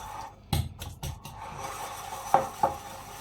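A spoon works through a fresh goat cheese stuffing seasoned with salt and Espelette pepper in a bowl, making soft rubbing scrapes and a couple of sharper knocks against the dish, close up and without speech.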